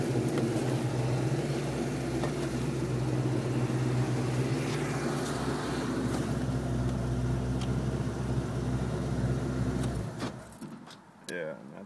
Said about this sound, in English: it really sounds like the whining noise is coming from the smog pump